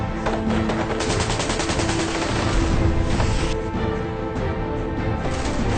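Sustained heavy gunfire with rapid bursts and overlapping shots, loud and continuous throughout, like automatic weapons firing nonstop.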